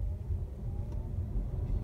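A BMW i3 REx range extender engine runs steadily, a low continuous rumble with a faint hum, heard from inside the car without talk.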